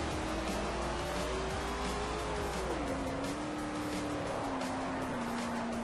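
Racing car engine in the Forza 4 video game, a steady high drone with a gliding pitch that drops as the car shifts, loud and continuous with a faint squeal-like hiss on top, no voices.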